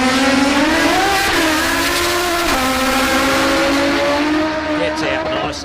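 Drag racing motorbike launching down the strip at a street challenge event, a loud high-pitched engine wail rising and shifting through gears as it pulls away, with commentary over it.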